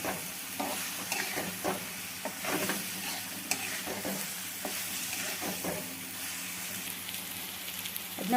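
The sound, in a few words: stirring okra fry with gram flour in a pan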